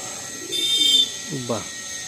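Telangana tippler pigeons cooing in a loft, a couple of soft low coos followed by a rising, warbling coo, close by with faint background hum.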